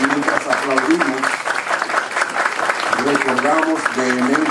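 Applause from an audience at a political party gathering fills the space as a steady wash of many clapping hands, with a voice speaking loudly over it throughout.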